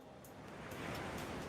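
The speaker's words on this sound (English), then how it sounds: "She listens to the sound of the waves." Ocean waves wash onto a shore at night in the video game Nikke, a soft, steady rushing surf that swells slightly, faint and without talk.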